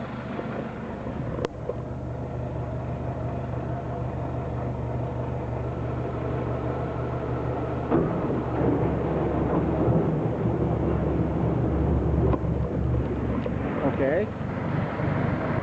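A 2013 Mercury 150 hp four-stroke outboard motor idles in a steady low rumble, close and continuous, with a brief spoken word and some wind and water noise mixed in.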